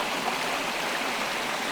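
Small creek cascades tumble over rocks on Saw Mill Branch in Maryland, giving a steady, close, full rushing wash of water with no pauses and no voices.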